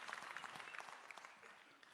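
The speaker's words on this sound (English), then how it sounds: "we need to give our regions and the branches a round of applause for the mature management of such a very sensitive process" Delegates at a provincial ANC conference applaud, a fairly faint, distant crowd clapping steadily for a couple of seconds, tapering slightly toward the end.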